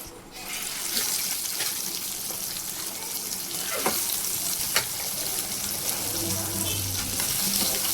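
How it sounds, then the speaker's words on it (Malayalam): Avoli (pomfret) fish frying in hot oil in a pan, a steady dense sizzle and crackle running throughout with a few sharper pops and spits, close and fairly loud, no talking. "നമുക്കപ്പോൾ ഇനി ഇതൊന്ന് നന്നായി വറുത്തെടുക്കാം"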